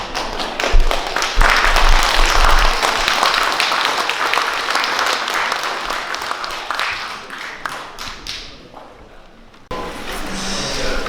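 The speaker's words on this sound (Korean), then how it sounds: "주인공이신 최종용 저자님 앞으로 나오실 때 큰 박수로 맞아주시기 바랍니다." Applause rises from an audience at a Korean book launch as the author comes forward, a loud, dense clapping that carries on for several seconds, then fades and thins out before a brief renewed burst.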